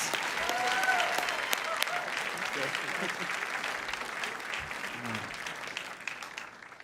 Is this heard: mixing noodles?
no